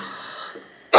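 A single throat-clearing cough from a woman with a cold in early pregnancy, close and loud, bursting out abruptly at the very end after a quiet moment.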